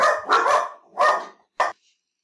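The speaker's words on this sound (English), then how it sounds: "My dog's just, I think, saw a prowler or something." A dog barks sharply several times in close succession, loud and near, then a final single bark after a short pause, with silence between bursts and no talk.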